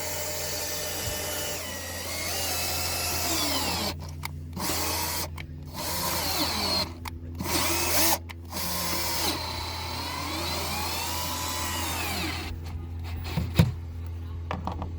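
A power drill runs in repeated bursts as it threads a hole into aluminum while a diving board surface-mount plate is installed, the motor whining loudly and steadily and stopping briefly between passes as the bit is turned in and backed out.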